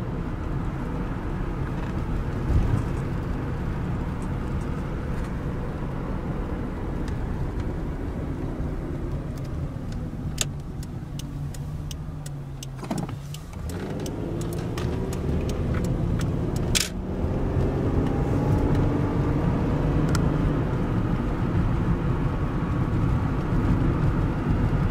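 A 1990 Toyota Camry LE V6 on the move, its engine hum steady and close under broad road and tire noise, with a brief dip and rise in pitch around a gear change midway.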